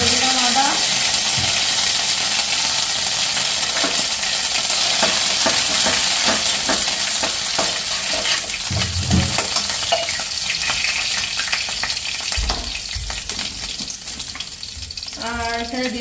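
Five-spice seeds (panch phoron) and ginger fry in a hot pan, a loud, continuous sizzle with occasional stirring, and a voice is heard at times.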